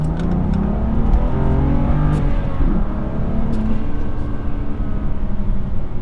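A BMW M2 Competition fitted with a Remus exhaust, valves open, accelerates hard at full throttle in second gear, its engine note rising steadily as heard from inside the cabin, loud and continuous with no talking.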